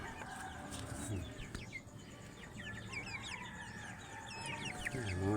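Chickens cluck and chatter repeatedly over a steady background hum, with several birds calling at moderate distance.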